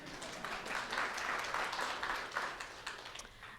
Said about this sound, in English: now applause for yourself.